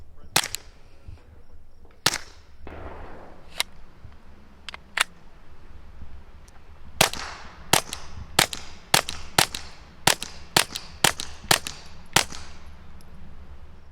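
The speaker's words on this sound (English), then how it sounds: "you can just like shoot it and shoot it and shoot it round after round after round" A Glock 44 pistol fires round after round: a few scattered sharp reports at first, then a fast, steady string of about a dozen crisp cracks, loud and close, with no talk.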